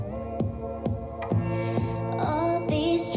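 A song played back sped up on a DJ deck with master tempo switched off, so its pitch rises along with the speed, giving a steady pulsing beat under higher, strained-sounding tones, loud and continuous with no talk.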